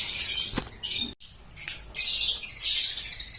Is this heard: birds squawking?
yes